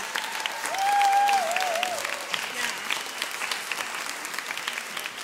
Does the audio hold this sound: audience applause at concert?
yes